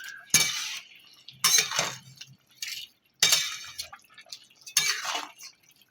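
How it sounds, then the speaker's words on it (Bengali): Spoon or ladle stirring milk shukto in a pot after ghee is sprinkled on top, four separate bursts of scraping and clinking, close and fairly soft, with short quiet gaps between. "দিয়ে এবার নেড়ে দেবো"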